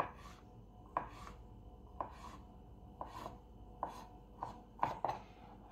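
A knife slices hygrophore de mars mushrooms into thin strips on a board, each stroke a soft rasping cut ending in a light tap, repeated at a steady pace of about one per second, close and quiet, with no talking.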